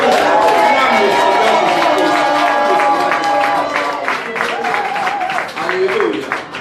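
A church congregation at a Sunday service applauds and cheers for Jesus, loud steady clapping and joyful voices filling the hall, with singing tones woven through and easing slightly toward the end.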